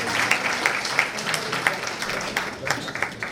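Applause at a book launch for a Kenyan civil litigation book, a moderate round of scattered hand claps from a modest audience, with individual claps standing out and voices murmuring underneath.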